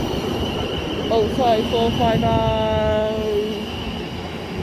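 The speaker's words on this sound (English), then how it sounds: "450038 on the Southwestern Railway Service to Portsmouth Harbour." Southwestern Railway Class 450 electric train at Petersfield Station, with rising and falling tonal whines over a steady rolling rumble. A voice briefly speaks under it.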